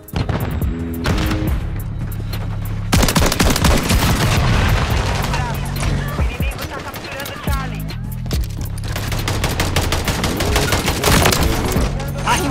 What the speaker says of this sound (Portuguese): Eu tô levando tiro!